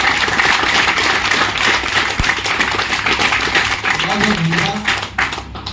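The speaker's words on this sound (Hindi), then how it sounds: "तो एक बार बलिया के नाम पे बलिया वाली ताली मुझे देखना चाहता हूँ।" A crowd at a motivational business seminar in Ballia breaks into steady, dense clapping that carries loudly and evenly for several seconds, then thins out near the end.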